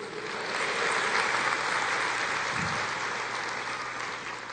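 A church congregation applauds the Lord during a sermon, a sustained, even roar of applause heard from a distance, moderately loud with no distinct individual claps.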